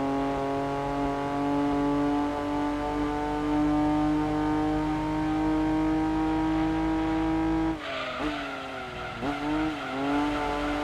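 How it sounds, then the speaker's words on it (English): Datsun race car from Gran Turismo 2 racing in a historic car cup: a steady, loud engine drone holds for about eight seconds, then gear shifts drop and sweep the pitch twice before it climbs again. "This Datsun is a powerhouse."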